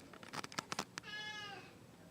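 A cat meows in a quick run of short calls followed by one longer drawn-out meow, close and fairly clear with no voices.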